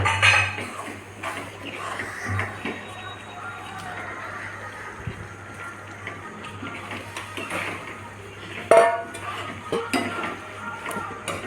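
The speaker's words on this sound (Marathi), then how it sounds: "आता याच्यामध्ये आपण जे फुलकोबी फ्राय करून ठेवली ते ॲड करून घेऊया." Fried cauliflower tipped into spice masala in a kadhai, faint clinks and scraping of a spoon against the metal pan over a low steady hum, with a louder clatter near the end.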